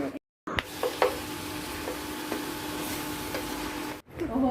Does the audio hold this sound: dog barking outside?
no